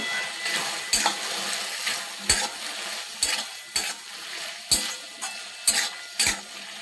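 Tomato chutney with black salt and turmeric stirred in a pan, a spoon scraping in regular strokes roughly every second over a soft continuous sizzle, close and clear with no talking.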